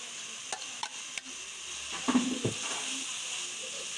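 Okra being tossed into fried spices in a pan for dhaba-style lemon bhindi, a few light clicks and scrapes of a spatula over a quiet, steady sizzle, close and faint.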